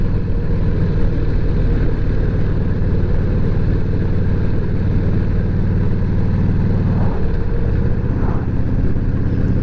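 A Harley-Davidson Evo motorcycle engine drones loud and close while riding, a dense continuous rumble with a slight pitch change near the end and no speech.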